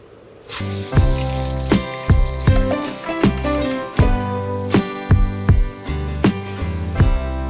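Onions tipped into hot oil with roasted cumin, setting off a loud sizzling hiss that bursts in suddenly and continues steadily under rhythmic tonal music.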